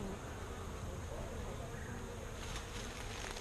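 Bees buzzing inside a hive, recorded up close with a GoPro, give a dense, steady hum and drone that fills the whole clip at a low, even level.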